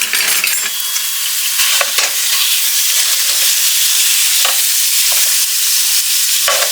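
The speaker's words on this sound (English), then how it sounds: "first thing I'm going to do is add in our 1 pound of ground beef" One pound of ground beef fries loudly in a pan, a constant close sizzle broken by repeated scraping strokes as the meat is stirred and broken up.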